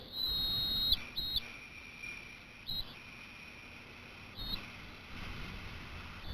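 A small whistle on top of a Weeden toy steam boiler sounds in several short, shrill bursts with gaps between them, then settles into a thinner, fainter steady tone.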